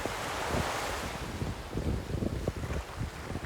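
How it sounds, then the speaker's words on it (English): Surf rolls onto a deserted Scottish beach on the East Lothian coast near Bass Rock in April, a steady wash of breaking waves with gusty wind buffeting the microphone, no voices. "And look at those waves! Absolutely beautiful today."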